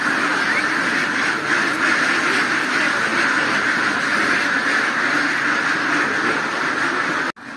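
A large flock of laying ducks crowded in a pen keeps up a dense, loud, continuous chorus of overlapping quacks, steady throughout and cutting off abruptly near the end.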